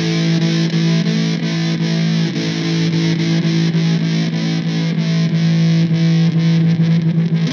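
An electric guitar is played louder with a pick through distorted tone, producing a sustained, loud, buzzing chord with repeated picked attacks throughout and no speech.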